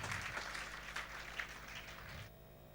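A church congregation at a fasting prayer service bursts into dense, sustained applause, fairly loud and steady, then cuts off abruptly near the end, leaving only a low hum of the hall.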